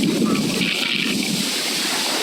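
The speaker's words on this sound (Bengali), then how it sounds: "এত পরিমাণ বাতাস যে কথা শোনা যাচ্ছে না, আর বাতাসের তীব্রতা এত বেশি যে উড়াই নিয়ে যাচ্ছে বলা যায়" Strong cyclone wind and rough sea on Saint Martin's Island, a loud, continuous roar of gusts buffeting the microphone over the wash of surf, steady and close with no clear voice.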